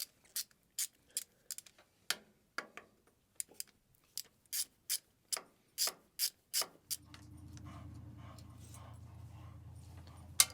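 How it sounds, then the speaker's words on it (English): A flex head ratchet clicks in quick, rapid bursts of sharp ticks during oil-change maintenance on a Case 430 diesel tractor, then a low mechanical whirring hum takes over near the end. "This is why I love flex head ratchets."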